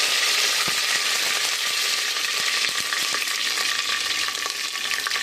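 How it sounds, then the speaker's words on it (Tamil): Mustard seeds and cumin crackle and sizzle loudly in hot oil for a sambar tempering, a dense continuous frying hiss close by, punctuated by sharp little pops and a few light metallic taps. "கடுகு கொஞ்சம் பொரிஞ்சதும் சீரகம்"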